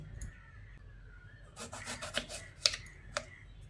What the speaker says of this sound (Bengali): বেগুনের এই দু মুখ কেটে ফেলে দিচ্ছি।